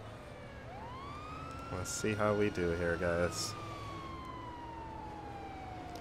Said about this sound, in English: I'm gonna control the sirens and she's doing the driving.